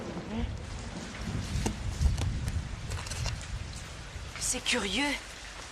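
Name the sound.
thunderstorm with rain in a cartoon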